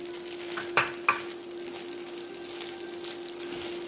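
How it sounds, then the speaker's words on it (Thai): Crab fried rice is stir-fried in a pan over moderate heat, giving a steady soft sizzle with a couple of sharp scrapes of the spatula early on. "ผัดไปนะคะจนเข้ากันดี ไฟไม่ต้องแรงมากนะคะ"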